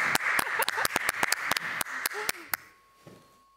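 Clapping from an audience at a folk music show: a series of loud, distinct hand claps in an irregular rhythm, close and sharp, ending in near silence after a couple of seconds with faint voices.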